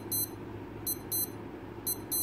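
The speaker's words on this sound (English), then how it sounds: "you can do a test of the alarm tone by pressing and holding the bottom right for 2 seconds" Alarm tone test on a Casio W213 wristwatch: sharp, high-pitched electronic beeps come in quick pairs and singles, repeating close to the microphone against a faint room hum.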